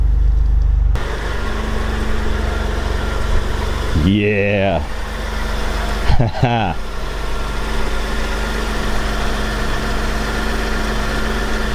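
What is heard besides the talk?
1993 Mitsubishi 3000GT V6 engine idling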